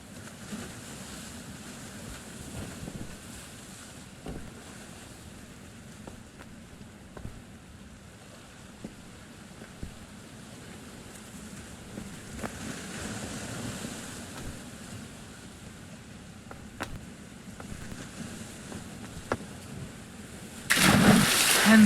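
Water and waves in a video game, a soft continuous wash of surf with a faint wind-like rush, fairly quiet throughout, ending in a brief louder splash burst.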